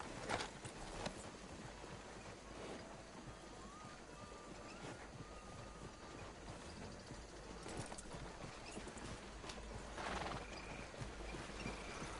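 Horse hooves clip-clop in Red Dead Redemption 2, a steady faint trotting rhythm under a constant windy outdoor game ambience, with an occasional brief whinny and no talking.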